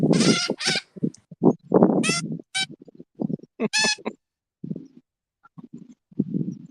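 A small songbird, such as a nuthatch or oriole, gives repeated harsh distress calls while held in the hand for banding. The bursts come close and loud, broken by short pauses, with no voices.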